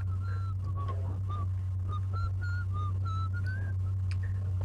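A person whistling a short melodic tune, clear repeated notes over a loud constant engine drone from inside a vehicle.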